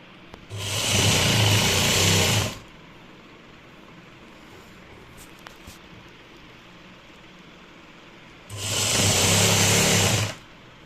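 An electric sewing machine stitches the belt of a salwar in two loud, steady runs of about two seconds each, separated by a quiet pause with faint handling noise.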